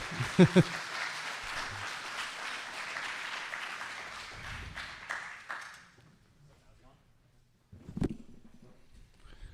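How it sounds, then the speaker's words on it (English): A debate-event audience claps for a debater in a lively burst of many hands that fades out after about six seconds, leaving a near-silent gap before a voice speaks close to the microphone. "Put your hands together. Keep clapping. Keep clapping."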